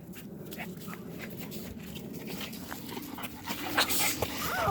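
A black and white female pitbull pants rapidly and whimpers up close, the breathing steady and a little louder toward the end, with no one talking.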